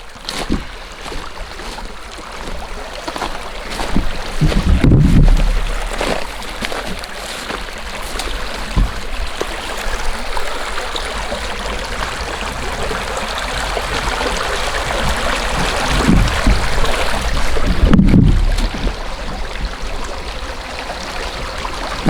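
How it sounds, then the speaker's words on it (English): A creek running after heavy rain gives a continuous broadband rush of flowing water, close and fairly loud, swelling slightly in places, with no talking. "The water doesn't seem to be running any more than it normally has, even if after all that rain"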